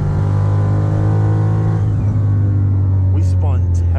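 A Dodge Hellcat spinning its wheels at launch on a track, a loud deep engine roar and drivetrain rumble right up close, easing off partway, with a voice briefly over the end.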